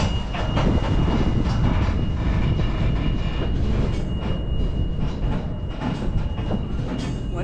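A freight train rumbles steadily through Wisconsin with a dense low roar and rattling clatter, continuous and loud throughout, with no voices.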